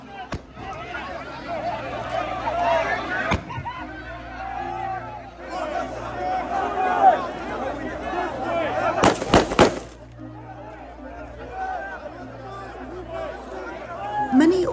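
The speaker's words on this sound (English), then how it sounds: "In these images, we can see a tear gas grenade and hear gunfire." Gunfire at a crowded Gaza aid distribution site, a few sharp cracks and one dense burst of bangs cutting through constant crowd chatter and shouting voices.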